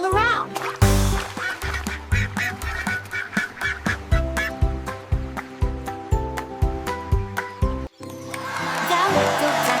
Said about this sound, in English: The little duckling quack quack quack